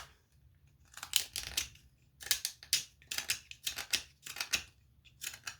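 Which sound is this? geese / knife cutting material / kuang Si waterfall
knife cutting material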